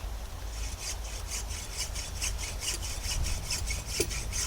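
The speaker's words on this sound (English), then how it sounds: "I'm just going to go at this with the hacksaw." A hacksaw rasps back and forth through bone in quick, even strokes, about three per second, close and fairly quiet with no talking.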